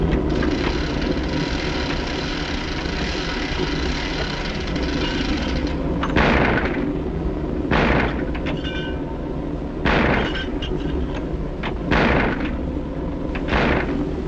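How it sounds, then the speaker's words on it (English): Anti-aircraft guns fire in rapid, repeated bursts of loud cracks and booms over a dense, constant rumble, the volleys punching through at irregular intervals. "From aircraft to anti-aircraft guns."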